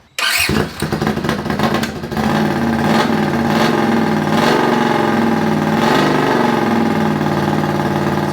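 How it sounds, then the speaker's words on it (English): A Honda CX500 motorcycle with its muffler removed but a silencer inside the exhaust pipe starts and runs loudly, its engine revving up several times in rough, throaty bursts. "So this is what it sounds like without the muffler, but with the silencer inside the tube"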